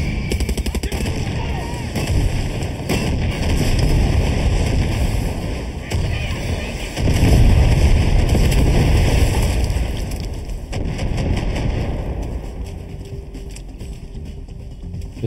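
Tank cannon fire and explosions in Far Cry 6 combat, heavy loud rumbling booms and gunfire rolling continuously through the scene, with a brief voice in the mix.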